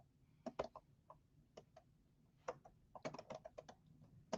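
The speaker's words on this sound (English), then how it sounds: "I'm going to grab the text tool and I'm just going to type in" Keys clatter on a computer keyboard in short bursts of crisp clicks with brief pauses between, close and fairly quiet, with no voices over it.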